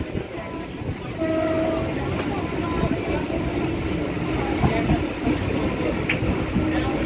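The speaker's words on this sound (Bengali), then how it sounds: "এখন আছি বজবজ নৈহাটি লোকালে।" Inside the Bajbaj–Naihati local train, wheels and carriages keep up a steady rumbling roar with faint rhythmic clatter, and brief tonal horn or whistle notes cut through.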